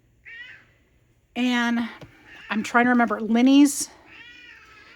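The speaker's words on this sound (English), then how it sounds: "You guys, sorry for the cat crying." A cat meows several times nearby, with drawn-out, rising cries in a room during paper-craft mail opening. Someone talks over the cat.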